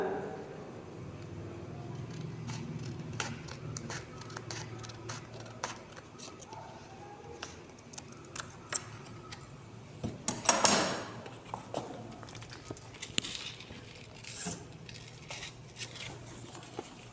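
Scissors cut through a paper circle in a classroom demonstration, giving a series of soft snips and crisp rustles, with one louder crinkling burst partway through, while someone talks quietly.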